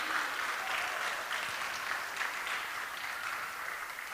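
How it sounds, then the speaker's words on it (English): An audience at a Srila Prabhupada Disappearance Day festival in Toronto applauds his disciples, a steady, moderately distant round of clapping lasting throughout. "let's give a huge round of applause to all the wonderful disciples of Prabhupada"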